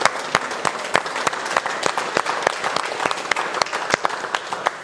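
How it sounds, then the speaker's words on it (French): A festival audience at the Déod'Art international festival in Saint-Dié-des-Vosges applauds the organisers and exhibitors, steady loud clapping with distinct sharp claps close by standing out over the crowd's continuous patter. "c'est d'applaudir les organisateurs et les exposants parce que c'est grâce à eux qu'on est là aujourd'hui"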